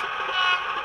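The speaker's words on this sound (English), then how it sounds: "F12 is air horn short" A Hornby Class 31 model diesel locomotive in rail freight livery sounds a short air horn blast, a single steady loud toot lasting under a second, with nothing else heard.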